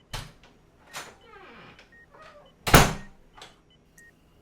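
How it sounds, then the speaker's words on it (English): Door opened with a few scattered knocks and clicks, a creaking sweep, then a loud thump and a couple of softer taps, close and fairly quiet overall. "opens the door"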